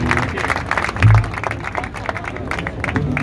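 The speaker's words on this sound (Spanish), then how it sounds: "Fuerte el aplauso para" A live music crowd applauds a band on stage, a short burst of dense clapping with some crowd noise and a voice beneath it.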